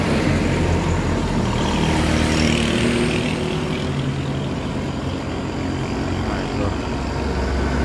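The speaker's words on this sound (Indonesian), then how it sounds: "Gak tahu truknya dari ekspedisi mana" A truck passes on an Indonesian road, heard as a continuous rumbling engine and road roar that holds steady at moderate loudness throughout, with traffic noise around it.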